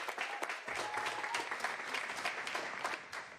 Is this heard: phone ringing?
no